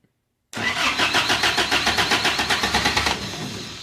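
A Toyota engine cranks with starting fluid sprayed into the intake, a steady rapid rhythmic starter churn kicking in loudly after a moment of silence and running for about two and a half seconds before easing off.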